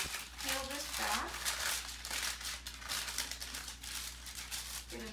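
Parchment paper peeled back from baked raspberry squares, a soft close crinkling and rustling, faint and continuous, with a voice speaking briefly over it.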